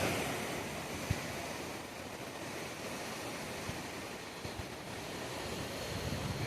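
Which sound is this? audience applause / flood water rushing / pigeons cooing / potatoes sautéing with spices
flood water rushing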